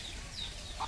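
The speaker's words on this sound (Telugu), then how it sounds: "కోళ్ళన్నీ చూడండి ఎలా గుంపులు కూడుకున్నాయో" Chickens and roosters gathered on a farmhouse plot give a brief, faint cluck or two against quiet outdoor background noise.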